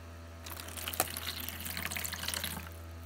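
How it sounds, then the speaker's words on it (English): Water trickles and splashes as it is added to an egg incubator holding turkey eggs, a close, steady pour lasting a couple of seconds over a constant low hum. "Just going to add a little bit of water here"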